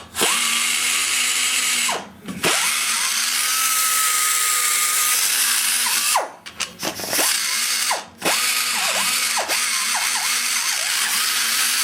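A power tool spot faces the metal washer seat on a cylinder head, a loud continuous whirring grind close by, broken by a few brief stops and restarts.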